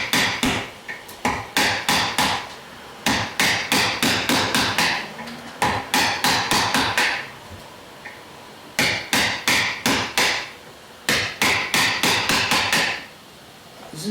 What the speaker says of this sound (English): The long Maxwell's silver hammer.